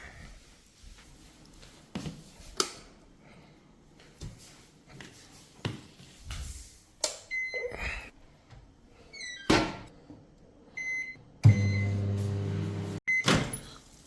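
Microwave oven heating a dish of paneer bharta: a steady loud hum runs for a couple of seconds near the end, set among scattered door thunks, clicks and handling knocks, with no talk.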